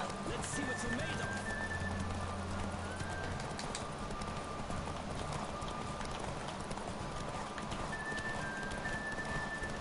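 Rhythmic clip-clop of a horse galloping in a game, steady hoofbeats with faint bird chirps and tonal game sounds over a constant background.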